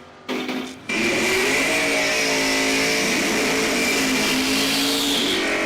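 Drag race between a Willys and an El Camino at Numidia Dragway: a brief rumble, then loud, sustained engine roar as the cars launch and accelerate down the strip, steady and close throughout.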